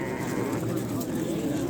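Sheep bleat amid a livestock market, the calls blending into a dense, continuous crowd murmur with people talking throughout.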